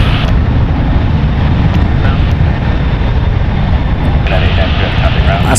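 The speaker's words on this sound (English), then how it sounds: "It's a Boeing 737-8, 15 years old." A steady, fairly loud jet rumble fills the stretch as an Alaska Airlines Boeing 737-8 airliner passes at San Francisco International Airport, and a voice talks over the engine noise.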